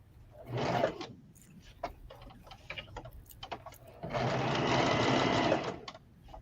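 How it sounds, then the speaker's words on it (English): A sewing machine runs in two bursts as a bodice lining is stitched together, first a short whirring run, then a longer steady buzz after a pause filled with small clicks and handling taps. "I'm sewing the bodice lining together real quick"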